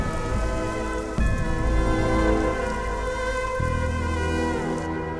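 Steady heavy rain pours down in a continuous wash, loud and close, with sustained musical tones running underneath.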